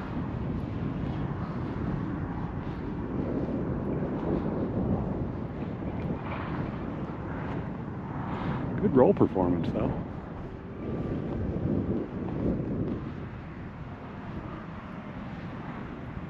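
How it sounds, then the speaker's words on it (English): Gusty wind roars and buffets the microphone while a 626-gram cardboard RC cruiser plane flies on a windy day with mechanical chop. The steady broadband rush runs throughout beneath someone talking. "Yeah, it's a windy day."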